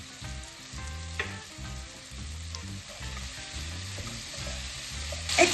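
Pumpkin and potato browning in a pan for risotto give a steady close sizzle with soft stirring scrapes running throughout, and no voices.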